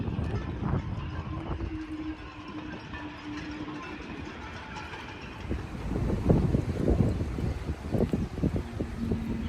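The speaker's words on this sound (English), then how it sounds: "Listen to the noise of the boats and the wind going through the masts of the boats." Strong gusty wind roars close by in a Torrevieja harbour, carrying faint whistling tones and scattered knocks, like rigging and masts of moored boats rattling.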